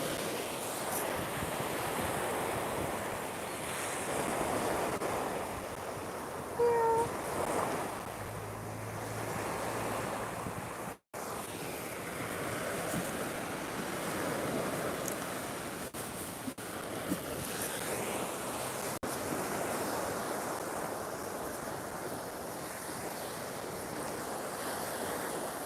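Waves wash onto a beach in a continuous rushing surf, rolling steadily with wind buffeting the microphone, while someone collects sea glass along the shore.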